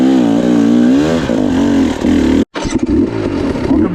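A hard enduro dirt bike revs hard while climbing a steep hill, its engine loud and close with rising and falling pitch, cutting out for an instant before surging back into rough, uneven throttle bursts.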